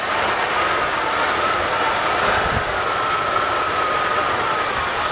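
A 1977 Ford F150 pickup engine, with vacuum hoses hanging disconnected, runs at a steady, even rumble close to the microphone, a constant drone with no revving and no talking.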